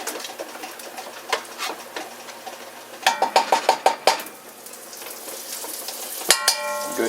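Butter sizzles and spits in a cast iron pan, a crackling hiss with a cluster of sharp pops and occasional metallic clinks of the pan.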